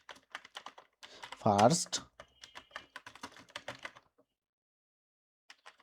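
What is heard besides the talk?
typing on a computer keyboard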